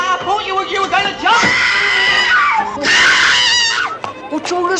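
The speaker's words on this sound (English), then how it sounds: "What's all the screaming?" Loud, close screaming and wailing from one or more people, with drawn-out shrieks and moans in bursts across the clip, mixed with shouting voices.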